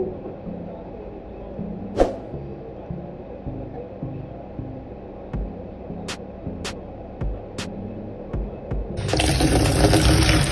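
Muddy municipal water from a Prime Water faucet in Pampanga starts with soft trickling and scattered clicks and knocks. Near the end it bursts into a loud, close, rushing gush from the tap.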